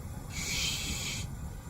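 Steady, fairly quiet hiss from a car air conditioner that is low on refrigerant gas, swelling for about a second over a continuous low engine hum. No one speaks.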